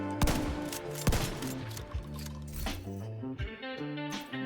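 Shotgun blasts in The Division 2, two sharp reports with ringing tails over a busy game soundtrack, followed by clinking and scattered action sounds.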